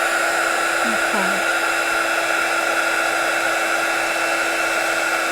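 A heat tool blows hot air to melt embossing glaze: a loud, steady whirring blast that runs the whole time, with a couple of faint, brief tonal blips early on and no talking.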